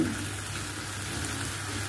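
Marinated pork sizzles steadily on a hot grill pan, a constant crackling hiss at moderate volume with no talking.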